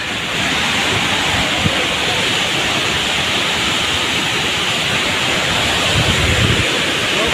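Rajpuri waterfall at Bagicha, Jashpur, gives a loud, steady roar of crashing water, close and continuous like dense hiss, with occasional faint voices mixed under it.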